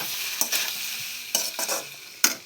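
Pasta and vegetables sizzle in a pan as a spatula scrapes through them in three or four quick close strokes over a soft frying hiss.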